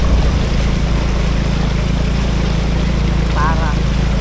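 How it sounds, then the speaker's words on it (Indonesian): A new motorbike pushing through flood water, with a steady, loud churning wash of water and engine noise that continues unbroken throughout, close and dominant. "Motor baru ini guys, kita gunakan untuk menerjang banjir guys."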